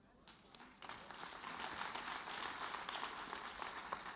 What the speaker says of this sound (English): I'll take another applause for that